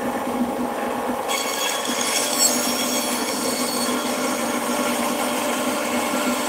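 A bandsaw cuts through a wooden block for a carved gargoyle head in a wood shop, a steady droning whir with grinding texture throughout, close and without talking.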